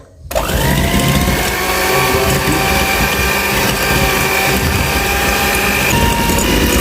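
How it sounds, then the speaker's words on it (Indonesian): An electric hand mixer whirs loud and steady for a papaya cheese sponge cake batter, starting from silence, with a sustained motor whine and rattle that holds throughout without any talking. "Kemudian kita akan mixer dengan kecepatan yang rendah dulu. Lalu kita akan sambung dengan kecepatan yang paling tinggi ya teman-teman."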